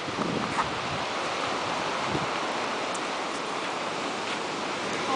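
Waves washing onto a beach, a steady close roar of surf mixed with wind buffeting the microphone, continuous and without voices.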